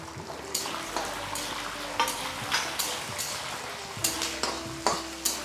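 Byadgi and Guntur dried chillies fry in oil in a pan for red chutney, a soft steady sizzle broken by sharp regular scrapes and clinks of a spoon stirring against the metal.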